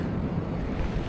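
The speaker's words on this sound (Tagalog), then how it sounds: "Tapos ang ganda ng tunog ng dagat." Steady, full-bodied rush of ocean surf on a beach at Pagudpud, a continuous low roar with wind noise buffeting the microphone and no voices.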